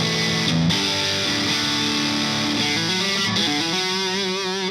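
Heavily distorted electric guitar chords ring out loud and sustained, thick with crunchy amp overdrive and a blurred, smeared tail.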